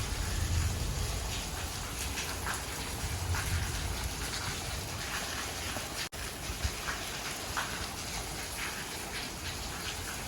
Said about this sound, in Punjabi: ਬਾਰਿਸ਼ ਕਾਫੀ ਤੇਜ਼ ਹੋ ਰਹੀ ਹੈ